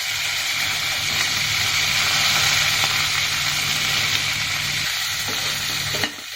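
Onion frying in a pan for wheat vermicelli upma, after cashew nuts: a loud, steady sizzle with a low hum underneath, close up and continuous, then a few small clicks near the end. No one speaks.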